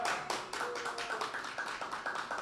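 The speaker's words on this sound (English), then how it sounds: "One more big applause for them." A crowd applauds with dense, continuous clapping that stays fairly loud throughout.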